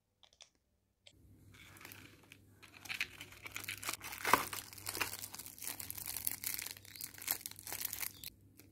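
Hygienic plastic packaging around a bar of black antiseptic soap crinkles and crackles continuously for several seconds at close range, with sharper rustles midway and no talk.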